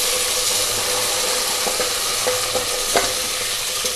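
Chopped fenugreek leaves roasting in a pan for bagara baingan (stuffed eggplant) curry give off a steady, close frying sizzle and hiss, broken by a few soft stirring scrapes, with no voices.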